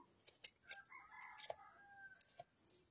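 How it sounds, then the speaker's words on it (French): A rooster crows in short, quiet bursts, heard faintly at a distance beneath scattered clicks and light handling noises indoors. "Le coq qui chante."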